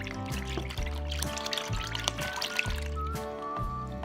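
Coconut milk pouring from a carton into a pot, a close steady liquid gurgle with repeated rhythmic glugs, over a faint tonal background.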